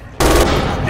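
An MG42 machine gun fires in the video game Red Orchestra 2, during a tractor factory assault. A loud, dense burst breaks in abruptly after a brief quiet start and continues at full volume to the end.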